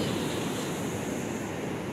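Ocean surf at Praia Quatro Ilhas beach in Bombinhas, a steady loud wash of breaking waves and wind rush with no talk.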